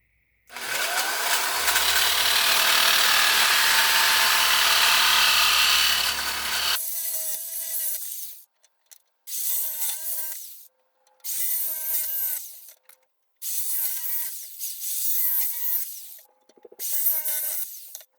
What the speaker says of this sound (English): So I'm using a jigsaw with a very fine-tooth metal cutting blade.